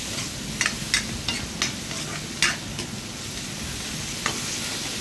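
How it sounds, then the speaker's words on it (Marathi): Tomatoes roasting in a pan sizzle steadily, with a series of sharp scraping clicks from stirring scattered over the sizzle. "टमाटरला 1-2 मिनटं भाजायचं"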